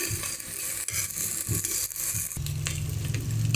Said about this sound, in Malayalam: അപ്പോൾ നമ്മുടെ ചെമ്മീനൊക്കെ നല്ലതുപോലെ ഫ്രൈ ആയിട്ടുണ്ട് കേട്ടോ